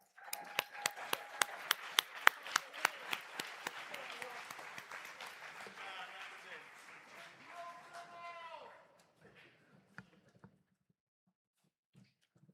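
Sharp, evenly spaced claps ring out at a South Carolina Democratic state convention as a candidate approaches the stage, mixed with voices and cheers, then dying away to near silence with a few stray claps.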